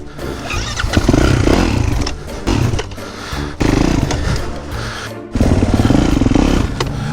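A four-stroke motocross bike revs hard in repeated loud bursts, the engine roaring up then cutting out between blips, close and harsh with brief gaps between throttle stabs.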